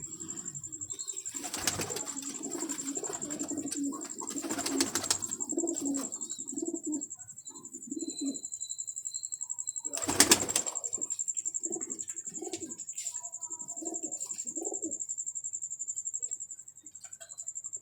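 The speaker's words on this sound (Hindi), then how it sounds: "क्रीज में कबूतर पड़े हुए हैं" Pigeons coo repeatedly from crates, soft rounded calls in bursts close by, with a high steady whine and a few brief wing flutters and knocks in the background.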